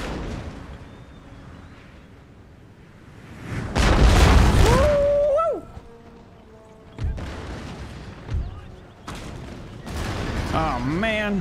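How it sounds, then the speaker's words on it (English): Musket volleys and cannon fire in a Total War: Empire battle, a heavy boom swelling around four seconds and further shots later, under ongoing talk from a player. "Yeah, they're firing."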